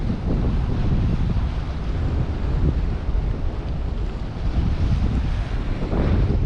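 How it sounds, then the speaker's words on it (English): Strong coastal wind while sea fishing buffets the microphone in a constant loud roar with gusty low rumbling throughout, no voices. "as you can probably hear, that wind is so annoying"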